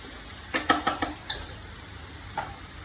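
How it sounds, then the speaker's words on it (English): Carrots and garlic in a pan, with several quick clinking stirs of a utensil against the metal over a soft, faint sizzle, then one more tap after a pause. "So I'm going to fry off the carrots."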